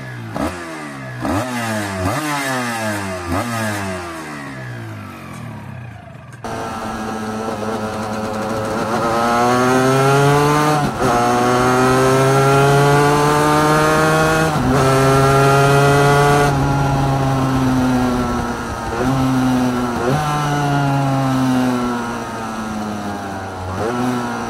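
A small 400cc motorcycle engine revs hard over and over, a high buzzing whine climbing and falling, loud and close, with no voices.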